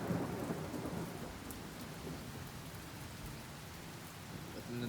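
An early summer thunderstorm, steady rain hissing throughout while low rumbling thunder rolls underneath, loudest at the start and easing slightly before building again.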